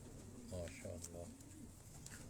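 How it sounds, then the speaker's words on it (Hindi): An imported racing pigeon coos softly, with a few short low coo phrases in quick succession, faint and close. "ये इम्पोर्टेड कबूतर है।"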